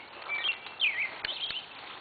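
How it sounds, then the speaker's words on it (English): Birds sing in a spring garden in Wisconsin, bright chirps and short warbled phrases heard at moderate distance over a soft outdoor background, with a couple of faint taps. "Don't you love the bird sounds?"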